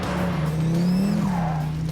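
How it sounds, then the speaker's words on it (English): Donkervoort D8 GTO with a tuned Audi engine roars steadily up close, a high whine rising and falling over the engine drone, no talk. "There's a massive turbo whine"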